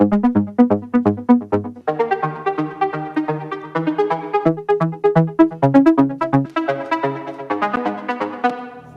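A bright, buzzy synthesizer plays rapid arpeggiated notes in a bouncy repeating pattern, a saw wave layered with a basic mini wavetable oscillator, crisp plucky attacks and no voices.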